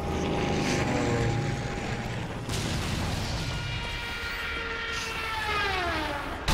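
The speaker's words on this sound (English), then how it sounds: "Plane coming in." Airplane flying in during the Zombie Army Trilogy video game: a steady propeller drone with a rising and falling whine, loud over a constant rumbling game background.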